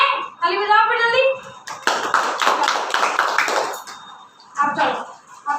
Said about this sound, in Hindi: ताली बजाओ फिर जल्दी।